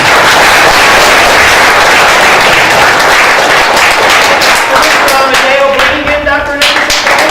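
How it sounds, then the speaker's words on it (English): Audience applause for Dr. Nickerson at a speech event, a loud, dense burst of many people clapping that thins out near the end as a voice starts speaking under it. "let's give a warm round of applause for Dr."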